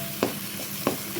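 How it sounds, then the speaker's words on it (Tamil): Tomatoes sautéing in a pan for prawn gravy give a soft, steady sizzle, broken by two quick stirring scrapes about half a second apart. "இப்போ தக்காளி பழம் சேர்த்து வணக்கிக்க வேண்டியதுதான்"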